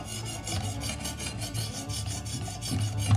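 A knife edge honed on a 600 grit abrasive in a Work Sharp Precision Adjust Elite sharpener, close rhythmic rasping strokes repeating about four times a second, loud and alone.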